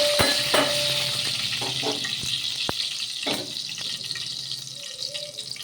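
Mustard and tempering seeds sizzle and crackle in hot oil for a fish curry, a steady close hiss broken by scattered pops and a few clicks, with no talking.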